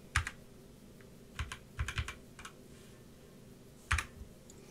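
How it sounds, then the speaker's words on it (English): Keys clack on a Magegee Sky98 keyboard in short irregular bursts, some single presses and some quick clusters, close and crisp against a quiet background. "By pressing the delete key"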